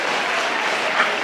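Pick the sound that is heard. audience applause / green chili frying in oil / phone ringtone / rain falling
audience applause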